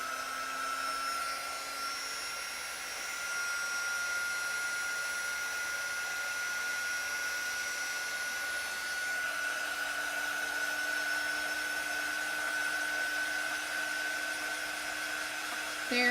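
Hair dryer blowing steadily on chalk paste decorating a star-patterned craft piece, a continuous airy whir with a faint whine running alone at an even level for the whole stretch.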